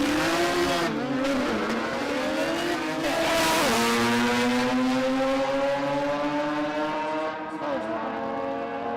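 A little Datsun wagon race car from Maroubra running a 13B rotary engine, howling at high revs with rising and falling pitch through gear changes and a brief tire squeal, loud and close, with commentary talking over it.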